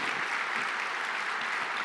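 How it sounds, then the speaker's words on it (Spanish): Church congregation applauding together at a Sunday service, a steady, dense wash of many hands clapping throughout the short stretch without a break. "Dele fuerte ese aplauso al Señor."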